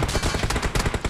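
Rapid automatic gunfire crackles in a dense, loud burst of overlapping shots during a game firefight, close and continuous, with no talking.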